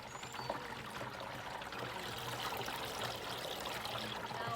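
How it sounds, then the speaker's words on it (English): Water poured steadily into a plastic container up to the one-gallon mark for mixing a mosquito spray concentrate, a soft continuous trickling and splashing with no talk. "So we're going to fill this up to the 1 gallon mark."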